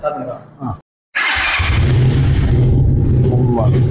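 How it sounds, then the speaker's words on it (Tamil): A motorcycle engine catches after a brief silence and settles into a loud, throbbing low idle close by, after a short moment of talk. "என்ஜின் இருக்கா? ஸ்டார்ட் பண்ணி பார்ப்போமா?"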